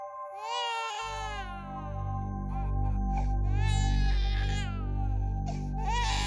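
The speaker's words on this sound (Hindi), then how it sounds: "आपको ये किसी बच्चे की रोने की आवाज आ रही है?" An unseen infant cries in a house, in drawn-out wailing bursts over a continuous low rumbling bed of background music or ambience. The sound comes through clearly and fairly close, with no talking.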